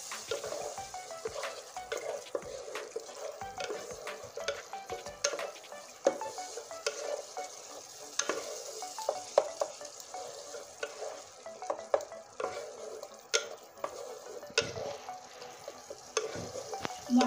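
A spice paste with turmeric is sautéed and stirred in a pan, with sizzling frying and repeated scraping, clicking strokes of a spatula close by and no talking.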